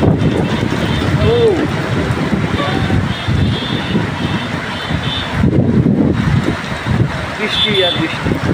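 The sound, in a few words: heavy rain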